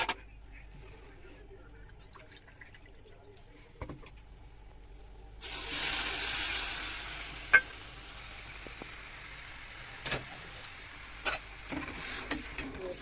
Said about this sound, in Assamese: এতিয়া কেৰাহীখনত মই এতিয়া 1 কাপ চেনি দিম, এতিয়া তাৰ আৰু 1 কাপ পানী দিম